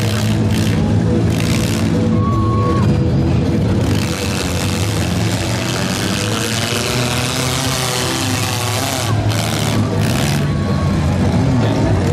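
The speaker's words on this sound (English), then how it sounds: "Car number 55 is getting some speed to line up here now." A demolition derby car revving and picking up speed to line up in a Schomberg junk-run heat, a loud, steady engine roar with crowd and arena noise all around, continuing throughout.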